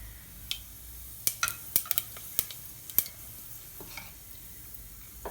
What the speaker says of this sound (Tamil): எண்ணெய் சூடாயிடுச்சு இப்போ நம்ம எடுத்து வச்சுக்கக்கூடிய பட்டை சோம்பு ஏலக்காய் மூணும் போட்டுடலாம்